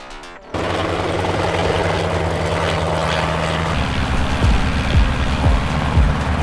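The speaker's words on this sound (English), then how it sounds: "There's a helicopter in a short film." A helicopter flies close during a short-film shoot, its engine and rotor making a loud, steady drone that starts abruptly and thickens into a deeper, pulsing chop toward the end.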